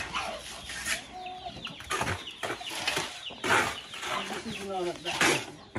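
Chickens fighting in a rural yard squawk and cluck in agitated bursts, loud and close, with scuffling in between.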